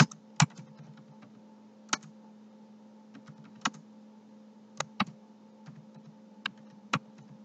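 Typing on a computer keyboard, with a steady run of soft key taps punctuated by sharper, louder clacks every second or so over a low background hum.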